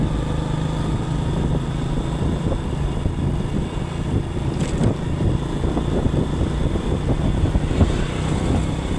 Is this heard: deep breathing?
no